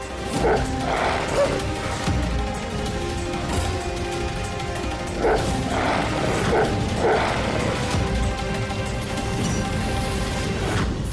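Dogs barking in a tense outdoor scene, repeated loud yips and barks in irregular bursts over a dense, busy background.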